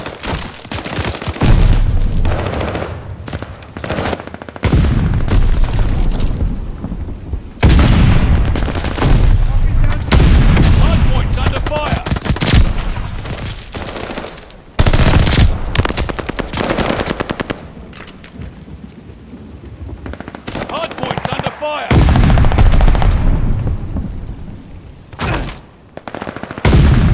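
Rapid automatic gunfire and booming blasts from a first-person shooter match in hardpoint mode, loud and nearly continuous with brief pauses, with occasional game announcer voice lines beneath.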